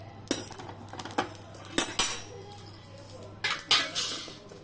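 Cutlery and pots clink and scrape as cooked chicken is moved from the pan into another vessel, a series of close, sharp metallic knocks and clatters over a low steady hum.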